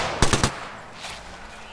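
A video game gun fires a quick three-round burst of loud, close shots, followed by quieter game sounds.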